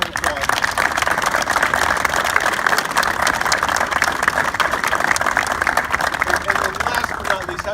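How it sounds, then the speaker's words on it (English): Applause from an audience at a press conference on fire department funding, a steady dense wash of clapping that stays loud and unbroken for the whole stretch. "Give them a round of applause."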